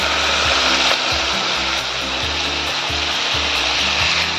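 Meat in a pan sizzles and bubbles vigorously right after hot water is poured in, a loud, continuous crackling hiss that stays close and steady with no pauses.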